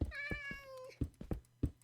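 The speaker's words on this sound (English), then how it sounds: "Oh, that cat sounds so sad." A single drawn-out, mournful cat meow in Minecraft, followed by several soft knocks or thumps nearby, fairly quiet overall with no speech.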